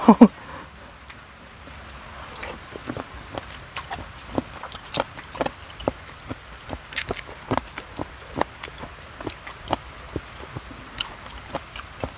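Rain falls beside the Mekong river at night, with scattered drops tapping and pattering on nearby surfaces over a steady soft wash, close and irregular, with no talking.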